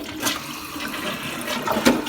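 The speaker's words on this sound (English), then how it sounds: "And then we'll try the larger flush." A Member's Mark toilet from Sam's Club gives its full, larger flush: a close, loud rush of water that gurgles and surges down the bowl, with a stronger burst near the end.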